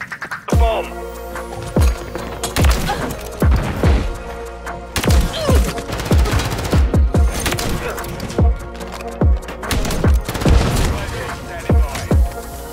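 Call of Duty Modern Warfare 3 sniper fire cracks out repeatedly in sharp, booming shots with punchy thuds and clattering impacts, spaced unevenly across a multiplayer match while a player talks over it.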